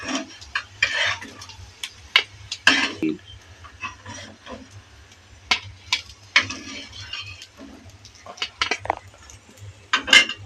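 Fried fish roe fritters lifted out of a pan of oil, with a string of light metal clinks and scrapes of a utensil against the pan under a low frying hiss.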